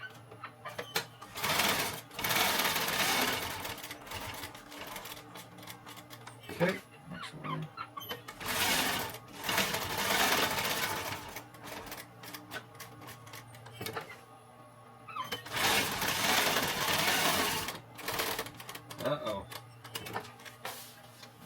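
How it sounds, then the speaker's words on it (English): Sewing machine stitching through backpack fabric, running in several sustained bursts of rapid whirring with pauses between, close and loud, with a person talking during the gaps. "I'm going to stitch right over it"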